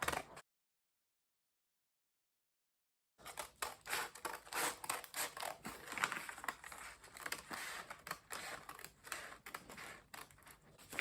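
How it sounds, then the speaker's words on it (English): Scissors cut out a blouse as a scoop neckline is shaped, giving quiet, repeated crisp snips and rustling fabric sounds after a brief silence. "going to cut our blouse out. It is very simple to cut."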